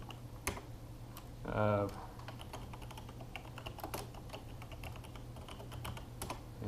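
Computer keyboard typing during an encrypted Arch Linux install, with scattered quiet key clicks spread across the moment and a brief spoken word near the start.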